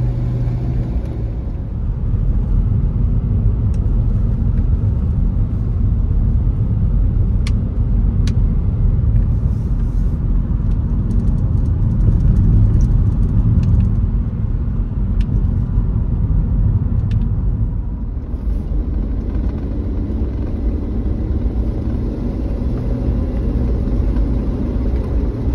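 A classic Range Rover Vogue SE being driven, heard from inside as a steady low engine and road rumble with a smooth whir, continuous throughout with a slight drop in level near the end.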